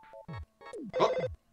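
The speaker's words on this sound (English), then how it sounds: "Oh. Phone's ringing." A telephone rings in the video game EarthBound, a chiptune-style ring in several short electronic bursts with brief gaps, clear and alone.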